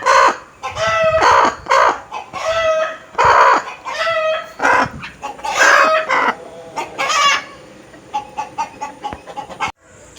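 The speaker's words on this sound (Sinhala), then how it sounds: "මේ ඉන්නේ පොර කිකිලියෙක්" Chickens, including a hen, cluck and call loudly close by in repeated bursts, with a crow-like drawn-out call among them and quieter clucking trailing off at the end.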